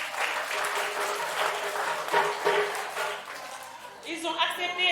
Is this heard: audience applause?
yes